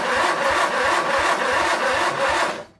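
Old Sears garden tractor engine turning over on its starter with a weak battery, a steady rhythmic cranking at a sluggish pace, close and loud, cut off at the end without catching.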